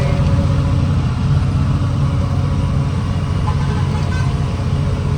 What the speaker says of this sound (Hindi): घाट में गाड़ी चढ़ रही है.